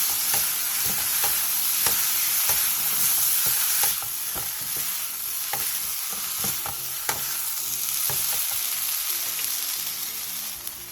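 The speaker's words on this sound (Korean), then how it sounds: "그 다음 어묵을 넣고 중불로 줄인 뒤 감자가 원하는 익힘 정도로 익을 때까지" Fish cake and potato stir-fried in a pan over medium heat as a Korean side dish, with a steady loud sizzle broken by repeated scraping and clacking from stirring, and no talking.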